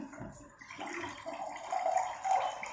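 Water poured into a glass or cup and sipped, a faint, continuous trickle that brightens toward the end, heard close with no speech over it.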